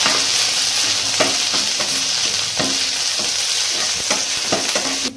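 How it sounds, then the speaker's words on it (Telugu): Ginger garlic paste frying in hot oil gives a steady, loud sizzle, with a spoon scraping and stirring through it in irregular strokes; nobody speaks. "ఇప్పుడైతే మనం ఆయిల్లో అల్లం వెల్లుల్లి పేస్ట్ వేసుకుందాం."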